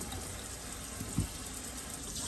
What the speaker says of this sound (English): I rinsed my sink out.